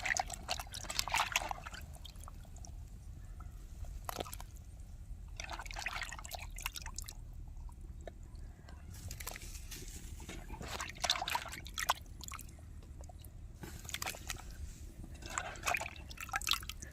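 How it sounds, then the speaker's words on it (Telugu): Tamarind fish curry gravy simmering in a pot, giving soft bubbling and liquid dripping sounds in irregular bursts over a steady low rumble, close and fairly quiet throughout with no talking. "ఇప్పుడు చూద్దాం, మన పులుసు అనేది మసులుతుంది"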